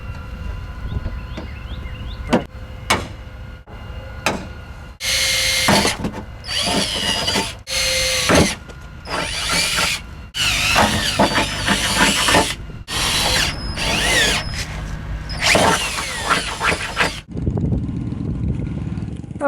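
A power drill boring holes for a snorkel install on a 1989 Jeep Cherokee, heard in repeated short bursts of whirring and grinding separated by pauses, close and fairly loud.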